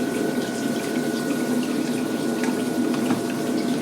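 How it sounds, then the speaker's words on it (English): Steady trickling and splashing of water running across the screen of an aquarium algae filter, a constant close wash with a faint pump hum beneath it. "Adjust the position of the screen to maximize the amount of water flowing across it"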